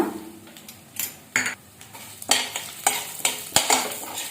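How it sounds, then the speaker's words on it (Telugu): Chana dal, urad dal, coriander seeds and cumin stir-fried in oil in a pan, a bed of sizzle broken by about eight rhythmic scraping strokes of a spatula against the pan, close and without talk. "ఇవన్నీ కలుపుకుంటూ మంచి కలర్ వచ్చే వరకు ఫ్రై చేసుకోండి."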